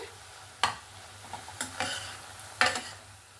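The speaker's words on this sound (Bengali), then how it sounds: "এরকম অনবরত নাড়াচাড়া করে এই পুরটাকে বানিয়ে নিতে হবে" Coconut and jaggery modak filling is stirred in a pan, a few distinct scraping strokes with light ticks over a faint sizzle, close and fairly quiet, no talking.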